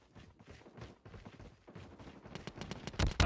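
Video game gunfire from a first-person shooter capture-point match with an FR 556 rifle, rapid bursts of shots building from faint scattered fire to loud close volleys near the end, with no talk.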